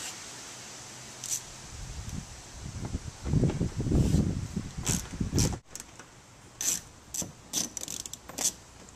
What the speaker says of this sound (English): I'm going to get a wrench and we'll take this off